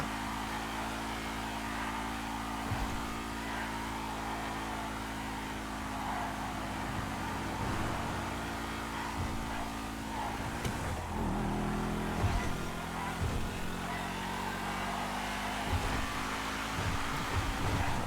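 A video game vehicle engine droning steadily while driving, a continuous humming tone that shifts slightly in pitch, with faint knocks and bumps over it.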